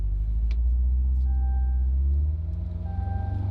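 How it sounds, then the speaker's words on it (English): Chevrolet Corvette C8 warning chime sounding with the front trunk open while driving slowly: two faint, thin electronic dings over a steady low engine and road rumble inside the car. "there's all sorts of dinging, dinging, dinging, dinging. It's nonstop."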